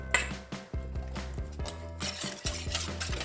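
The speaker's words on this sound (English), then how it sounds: "And now we're gonna whisk it." Whisk stirring about 3/4 cup of juice in a bowl in a home kitchen: steady rhythmic clicking and scraping strokes against the bowl, close and moderately quiet, with faint background music.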